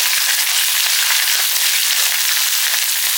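Green chilies and ripe red chilies sautéing in a pan for a quick Tamil chutney, giving a steady, close hiss of frying oil that holds evenly throughout with no talk.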